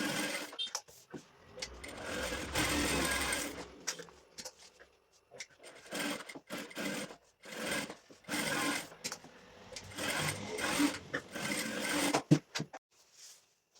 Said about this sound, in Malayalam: ഇനി അതിൻ്റെ 4 ഭാഗം ഒന്ന് സ്റ്റിച്ച് ചെയ്ത് കൊടുക്കണം കേട്ടോ